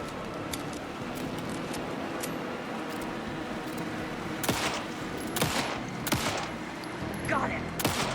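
Gunfire during the Scratch boss fight in Alan Wake II, a sustained dense barrage of rapid shots with sharper loud cracks standing out over the second half, under a constant rumbling background, with voices speaking.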